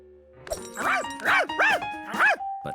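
A cartoon dog from Curious George barks four times in a quick, even series. The barks are close and clear against a quiet background, followed by a held tone.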